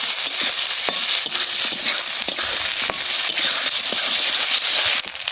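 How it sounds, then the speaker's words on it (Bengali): Ground spice paste sautéing with potatoes in hot oil for a rohu fish curry, a loud continuous sizzle and hiss close up, with scattered light scraping and stirring taps throughout. "এবারে যে মশলাটা বাটিয়েছি সেই মশলাটাও দেবো একসাথে আলুর সাথে কষাবো"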